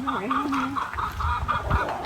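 A chicken clucks in short, quick bursts nearby, with a voice murmuring faintly in the background.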